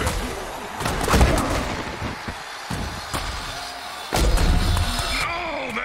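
Heavy tackle impacts in an American football video game, a late hit landing as a sharp slam and thud around 1.2 and 4.2 seconds amid a loud, busy mix of crowd noise and game sounds.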